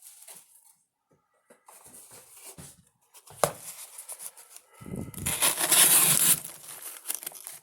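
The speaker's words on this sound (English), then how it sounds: "Let's see if we can cut up a box a little bit." A 2020 Hammer Brand English Jack pocketknife slices into a cardboard box, with close, scratchy scraping and tearing that builds into a loud, sustained rasp toward the end.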